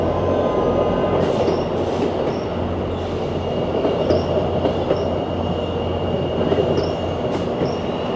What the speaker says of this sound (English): we sort of had 3 trains side by side for a second or two.